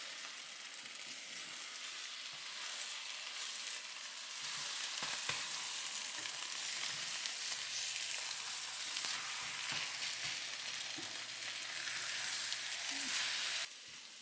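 Shrimp, eggs and Chinese chives sizzling in a frying pan, a steady, close frying hiss that runs throughout, with a few faint clicks and a low hum.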